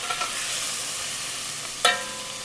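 Fried pieces are lifted out of hot oil with a slotted spoon while the oil sizzles steadily, and a sharp metallic clink stands out near the end.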